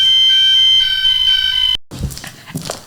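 A fire alarm sounding during a test gives a loud, steady electronic tone for almost two seconds, then cuts off abruptly, leaving muffled room noise behind.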